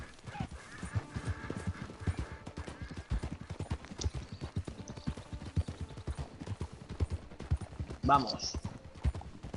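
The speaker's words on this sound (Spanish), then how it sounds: "llevo caminando con el caballo desde que he empezado" A horse walks in Red Dead Online with steady, close hoof clip-clops, and a brief whinny rises near the end. Someone talks over the hoofbeats.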